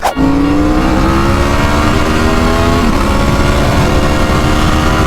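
A 2025 Ducati Panigale V4 motorcycle engine running loud and close, its high, steady whine holding through the clip with a slight drop in pitch partway, and no voices over it.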